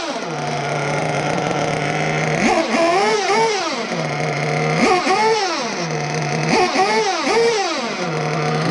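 Nitro-powered Tekno Nova Virtus RC car, modded and running bones, warming up outdoors: a steady buzzing idle broken by three sharp revving bursts that climb and fall in pitch, loud and close with no voices.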